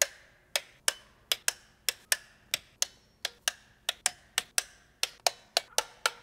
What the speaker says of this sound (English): now we're gonna go ahead and torque them down into 62 inch pounds